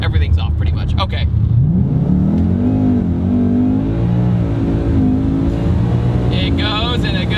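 Supercharged 2019 Ford Mustang GT accelerating hard, engine note rising steadily through the revs with a loud, close exhaust roar and supercharger whine, with someone talking over it.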